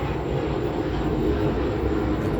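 Steady broadband roar of an airplane passing near an airport, loud and continuous throughout with no speech.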